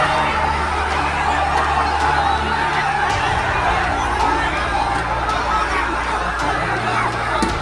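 A dense protest crowd murmurs and chatters loudly around a slowly reversing police jeep, with steady babble, scattered voices and a low engine rumble running throughout.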